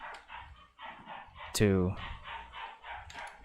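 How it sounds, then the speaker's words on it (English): A dog barks in the background of a livestream, with one loud, close bark burst in the middle and the rest mostly masked by continuous talking. "stream with the dog barking in the background like that."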